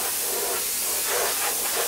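Silver-gray glaze is sprayed onto a clay bluefin tuna sculpture as a steady, even hiss of atomized spray, continuous and fairly soft, with no voices over it.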